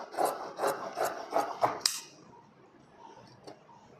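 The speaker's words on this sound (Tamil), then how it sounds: "நான் அந்த எக்ஸ்ட்ராஸை கட் பண்ணிக்கிறேன்" Scissors cut through excess chudithar fabric in a run of about six quick rasping snips close by, then a quiet stretch broken by one faint later snip.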